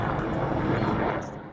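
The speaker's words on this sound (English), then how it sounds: "the helicopters are too loud" Helicopters flying over New York City make a steady, loud rotor and engine roar that fills the whole clip, fading a little near the end.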